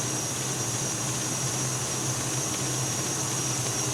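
A KitchenAid stand mixer with the paddle attachment creaming ingredients, a steady loud motor hum with an even whirring drone and no breaks.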